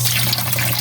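Tomatoes washed under a running kitchen tap, a brief, steady gush and splash of water, close up with no voices.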